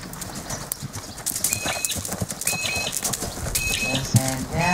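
Horse cantering during a riding lesson, rhythmic hoofbeats repeating at an even pace under outdoor ambience, with birds chirping faintly and a brief whinny-like sound near the end.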